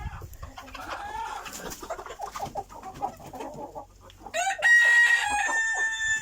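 Clucking hens and fowl chatter in a chicken coop, then a young rooster lets out a short, rough, strained crow near the end, loud and close.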